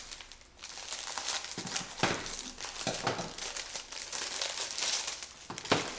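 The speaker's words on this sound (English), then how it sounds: "We'll cut them out of the cellophane bags." Cellophane cookie bags from a bee-themed cookie kit are cut open and handled, making continuous close crinkling and rustling with a few sharper crackles over six seconds.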